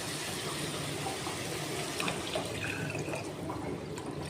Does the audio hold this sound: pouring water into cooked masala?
yes